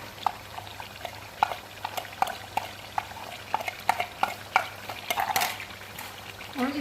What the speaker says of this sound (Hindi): अच्छी तरह से चिकन फ्राई करेंगे इसमें